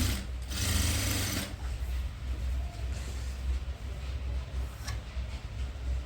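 A sewing machine stitches the lining of a full-frill long dress, starting with a loud, dense whir of about a second, then dropping to a softer, steady mechanical hum.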